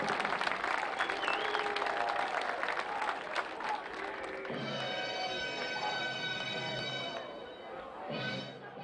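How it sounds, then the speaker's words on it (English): A crowd at a college football game applauds the induction of a sports Hall of Fame class, a dense sustained clapping that later gives way to band music and cheering. "a round of applause for the Tusculum Sports Hall of Fame class of 2017"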